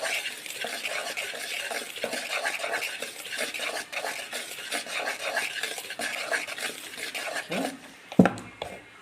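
Dry cake ingredients being stirred in a bowl for a cake order, a steady close scraping and clinking of utensil against bowl with rhythmic strokes, ending in a sharp knock.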